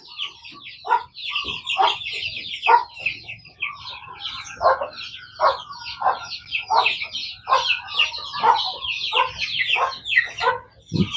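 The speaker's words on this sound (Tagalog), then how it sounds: "Yung mga tira-tirang kanin, papakain sa mga manok." Several chickens being fed leftover rice cluck and squawk continuously nearby, overlapping calls rising and falling in an irregular, busy chorus.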